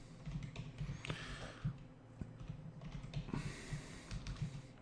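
Close computer keyboard typing, a run of quick soft key taps and clicks with brief pauses, quiet and alone, as code is entered.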